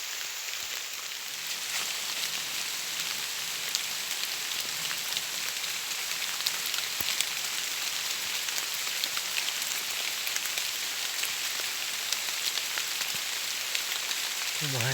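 Steady rain falls outdoors in a dense, even hiss of drops hitting surfaces, continuous and fairly close throughout with no voices.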